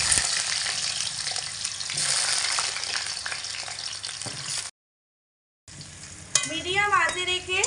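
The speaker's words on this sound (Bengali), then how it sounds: "গরম তেলের মধ্যে এবার আমি প্রথমে দিয়ে দেব কেটে রাখা কুমড়ো পিস।" Pumpkin pieces fry in hot oil, a dense, loud, continuous sizzle close by that cuts out briefly before resuming with a tonal, melodic sound over it.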